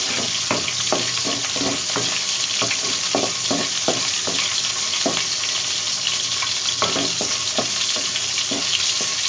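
Shrimp fry briefly in hot oil, giving a loud, constant sizzle that carries sharp crackles and pops throughout.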